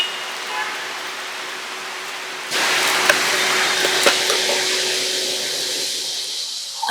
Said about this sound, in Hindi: ये तो झटाकेदार कड़ाकेदार बारिश आ गई भैया।